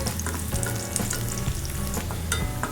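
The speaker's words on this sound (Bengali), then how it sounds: "পেঁয়াজ নেড়ে দিচ্ছি" Chopped onion and garlic fry in oil while being stirred, making a dense, steady crackling sizzle with repeated scrapes of a spatula against the pan, close and moderately loud.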